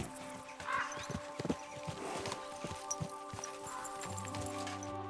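Horse hooves clip-clop in a steady walking rhythm while riding in the game Kingdom Come Deliverance II, moderately close with faint tack and ambient sounds underneath.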